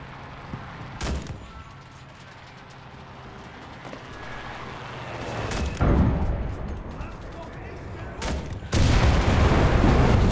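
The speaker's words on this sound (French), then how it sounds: "On avait les explosions ici devant le mur." Gunfire and explosions from the video game Enlisted, set in the Stalingrad battle: loud booms and bursts of shots erupt several times over a rumbling battlefield backdrop, with a voice speaking at moments.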